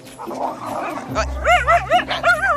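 Dogs on a walk whine and yelp excitedly, with rising and falling high-pitched cries and barks after a low rumble, close and loud, with a voice briefly heard.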